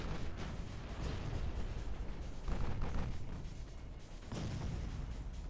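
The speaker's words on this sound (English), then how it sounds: "That has just eaten a full salvo of battleship shells." A battleship shell salvo in the naval video game Ultimate Admiral Dreadnoughts: deep, rumbling booms roll together into a continuous thunderous wash at moderate volume, with a few heavier swells and no talk.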